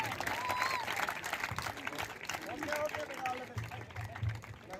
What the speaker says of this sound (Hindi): एक बार जोरदार तालियां के लिए।